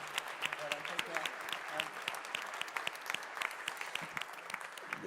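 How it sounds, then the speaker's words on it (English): Fairly quiet applause from a pro-life quiz event audience, steady scattered clapping lasting about five seconds, with a voice faintly heard near the start. "big round of applause to our fathers"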